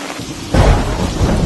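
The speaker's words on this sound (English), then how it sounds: "When it rains this hard in the Grensgebergte, water rushes to the Palamu River from all sides" Heavy rainfall and thunder in the Grensgebergte mountains of Suriname, a loud dense roar of rain with a deep rumbling swell that surges in after a brief quieter moment.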